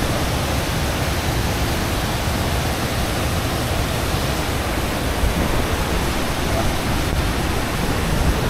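Lulugayan Falls in Calbiga, Samar, Philippines, rushes loudly and continuously, a dense, close roar of falling water that stays steady with no voices heard.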